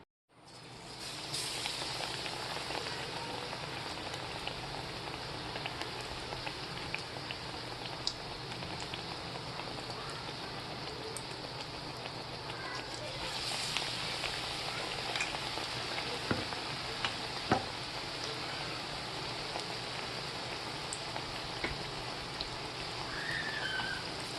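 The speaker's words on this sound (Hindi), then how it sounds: "अब इसको निकाल के हम तेल में तल लेंगे।" Batter-coated bread pakoda deep-frying in hot oil, a steady soft sizzle and bubbling crackle that runs continuously at low volume, with a few brief louder pops.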